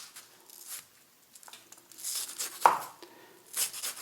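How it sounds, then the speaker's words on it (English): Knife finely chopping an onion on a board in short irregular bursts of cuts, fairly close, with brief pauses between strokes. "So I'm finely chopping this onion."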